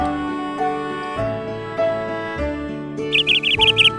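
Parrot calls ring out over a steady musical backing in a children's alphabet song, a cluster of short, bright chirps arriving near the end.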